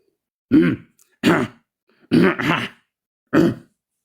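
A man at a church gathering clears his throat in five short, harsh rasps spaced irregularly across a few seconds, close and distinct against silence.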